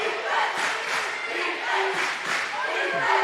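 A loud crowd roars and yells continuously at a boys high school basketball game between Prairieville Hurricanes and Ascension, with a dense, close wall of cheering.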